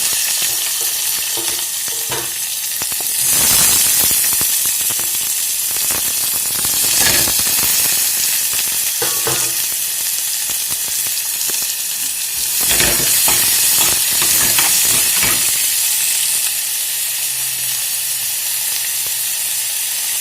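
Chopped onion frying and sizzling in a hot pan while being stirred, a steady crackle broken by scraping bursts of stirring, close and continuous with no talk.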